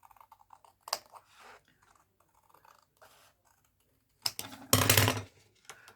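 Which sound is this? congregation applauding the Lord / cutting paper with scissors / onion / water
cutting paper with scissors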